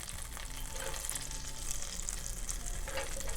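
Butter melting in a pan before flour goes in for a horseradish cream sauce roux, giving a steady, moderate sizzle with faint crackles and occasional light stirring, close by.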